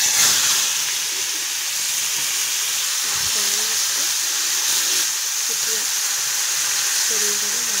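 Small fish (kucho mach) frying in hot oil in a heated wok for a Bengali chorchori: a steady, fairly loud sizzling hiss that holds throughout, with faint clinks and a little talk underneath.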